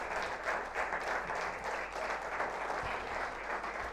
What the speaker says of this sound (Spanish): Si es para Cristo, dale fuerte el aplauso.